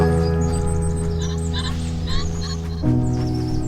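A chicken in the video game Shelter 2 gives honking, clucking calls over a steady droning game soundscape with sustained tonal hum, the calls recurring briefly across a few seconds.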